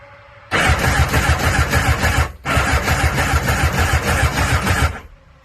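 Small engine on a 770 cranking steadily during a compression test on the PTO-side cylinder, a loud continuous rhythmic churn in two bursts with a brief pause between, no talking.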